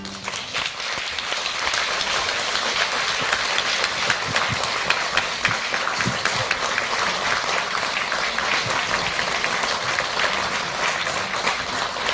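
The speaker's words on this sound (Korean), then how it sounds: "큰 박수로 환영해 주시기 바랍니다" A large audience at a Seoul public lecture with a world-renowned sociologist, the mayor arriving, claps steadily and densely for about twelve seconds, a continuous rain-like wash of hands with no voices over it.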